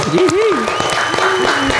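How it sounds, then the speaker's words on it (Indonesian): A small podcast studio audience claps for the hosts, brisk applause running under excited talking and a sung or drawn-out vocal line, close and fairly loud. "Boleh tepuk tangan dulu dong."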